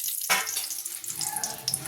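Bay leaves drop into hot oil in a kadai holding fried potatoes, setting off a sudden sizzle that settles into a steady bubbling hiss.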